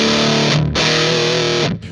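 Heavily distorted electric guitar chords through an EHX Hell Melter distortion pedal at full gain, thick and saturated, with a brief break before ringing out again, loud and close.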